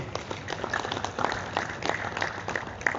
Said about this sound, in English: let's clap our hands once again